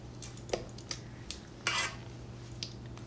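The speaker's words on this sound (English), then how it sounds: "once your eggs are mixed in, again, we're going to scrape down our bowl" Spatula scraping the sides of a mixing bowl of white chocolate cheesecake batter, a few quiet soft scrapes and light taps at an uneven pace against a low background hum.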